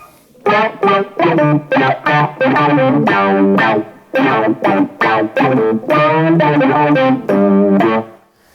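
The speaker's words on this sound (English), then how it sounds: "another sound I really like is the octave down on the Pitchfork, some distortion after it, and the wah wah pedal" Electric guitar runs through an octave-down Pitchfork pedal, distortion and a wah pedal, playing a string of choppy phrases of sustained, sweeping, filtered notes with short gaps between them, close and loud.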